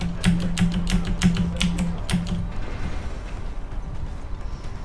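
Loud clacking keystrokes on a computer keyboard during a Deus Ex: Human Revolution play session, a rapid rhythmic burst for about two seconds before easing into quieter scattered taps over a low background hum.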